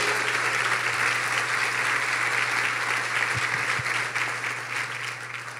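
A church congregation applauds during a Spanish-language sermon, a dense, steady roar of clapping that holds strong throughout and eases slightly toward the end, with a faint low hum beneath.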